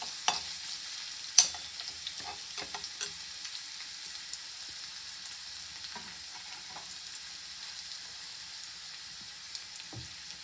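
Garlic frying in oil in a pan for a small capsicum curry, a faint low sizzle with scattered light clicks and scrapes of stirring, quiet and without talk.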